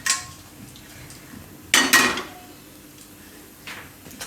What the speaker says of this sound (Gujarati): તો હવે આપણે કુકર લેવું.